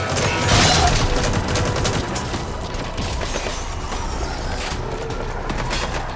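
Gunfire in Metal Gear Solid 5, a rapid sustained volley of shots that starts loudest and continues as steady firing without pause, heard without talk.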